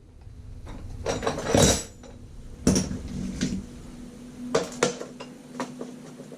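Metallic clinks and clanks of wrenches working a nut off a sway bar link on a 2004 Acura TSX suspension, scattered sharp hits and rattles at close range.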